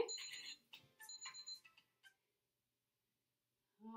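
An exercise timer in a senior fitness class goes off with a quiet run of bright electronic beeps and chimes for about two seconds, then falls silent.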